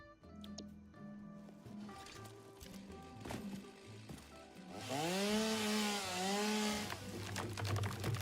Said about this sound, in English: I need a chainsaw.